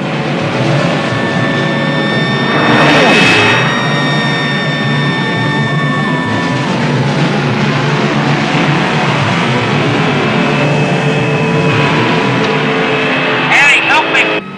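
A car engine running steadily nearby, a constant loud drone with shifting whining tones and a brief surge early on, under dramatic voices talking over it.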